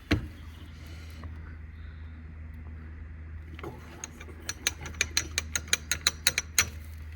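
Wrench ratcheting on stuck brake caliper bolts of a Citroen C2 VTS, a quiet stretch followed by a rapid series of sharp metallic clicks growing louder toward the end, close up.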